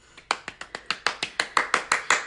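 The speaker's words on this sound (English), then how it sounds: "Give myself my own applause." One person clapping for themselves, about a dozen sharp hand claps at a quick, steady rhythm, close and fairly loud with no talk over them.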